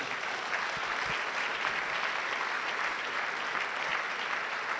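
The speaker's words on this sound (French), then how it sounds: "Applaudis très bien le Seigneur." A church congregation at a French-language prayer mass claps for the Lord, steady, even applause filling the room at moderate volume throughout.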